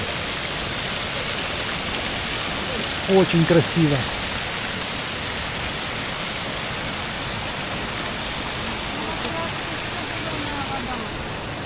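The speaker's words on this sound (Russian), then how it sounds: "Ох, а здесь небольшой водопадик даже." A small waterfall on a river near Überkingen gives a steady, loud broadband rush that fills the whole stretch, with a brief spoken remark over it.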